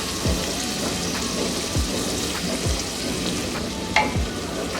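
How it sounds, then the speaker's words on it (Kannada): Potato and chutney mixture for chutney pulao frying in oil, with a dense, steady sizzle broken by several soft thuds and scrapes of stirring, close up and without speech. "ಹಸಿ ಘಾಟೆಲ್ಲ ಹೋಗೋ ತನಕ ಇದನ್ನು ಇದೇ ರೀತಿಯೇ ಎಣ್ಣೆಯಲ್ಲಿ ಫ್ರೈ ಮಾಡ್ಕೋಬೇಕು."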